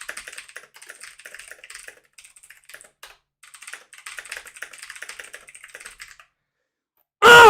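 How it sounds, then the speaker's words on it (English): Fast typing on a computer keyboard: close, rapid bursts of key clicks broken by short pauses, ending in a sudden loud clatter. "No slow typing!"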